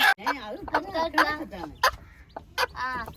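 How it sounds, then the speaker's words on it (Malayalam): A hen clucks repeatedly in short choppy calls nearby, with a voice mixed in among the clucks. "ഇവിടെ പുതിയ കോഴിക്കുട്ടി ഇവിടെ"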